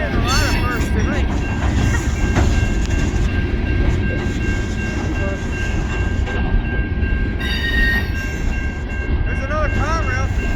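A Norfolk Southern coal train rolls past close by, a loud steady rumble of railcars with wheel clatter that runs throughout, while a voice talks faintly underneath.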